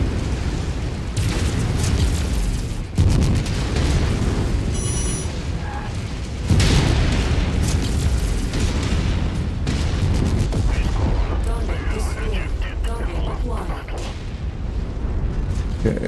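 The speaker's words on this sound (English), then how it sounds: "Let's put some missiles on him." Missile salvos fired at an enemy mech in modded Mechwarrior 5: Mercenaries, a loud barrage of booming launches and explosions rolling almost continuously, with sharp bursts standing out and a voice talking over the din.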